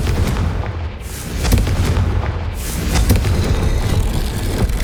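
Confringo fire spell exploding in the Hogwarts Legacy game, loud booming blasts and crackling bursts amid dense rumbling combat noise, with no talking.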